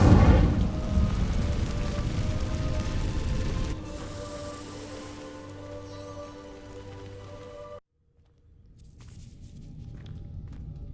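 An Incendio fire spell sets dry vines ablaze in the Hogwarts Legacy game, producing a loud, dense crackling rush of flame that settles into a steady burning hiss, cuts off abruptly, and then gives way to quiet ambience.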